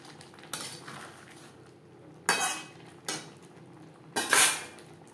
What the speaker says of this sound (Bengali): ধনেপাতা মাছের ডিম ও বেগুনের সাথে বেশ ভালো করে মিক্সড করে দেব।